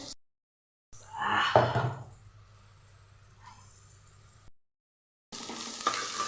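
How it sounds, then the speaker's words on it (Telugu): Onions fry in a pan with a brief stirring scrape and a soft sizzle that fades to a quiet hiss, broken by short silent gaps, close and fairly faint. "తొందరగా ఫ్రై ఫ్రై అయితే చూడండి ఆనియన్ ఇలా ఫ్రై అయిన తర్వాత"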